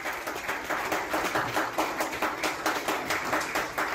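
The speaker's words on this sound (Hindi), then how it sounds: "श्री जमाल सिद्दीकी जी, राष्ट्रीय अध्यक्ष बीजेपी माइनॉरिटी मोर्चा के लिए जोरदार तालियां बजाकर हम स्वागत करेंगे" A crowd claps steadily for Jamal Siddiqui, national president of the BJP Minority Morcha, at a Christian community meeting at a BJP state office, with dense, even applause continuing throughout without a break.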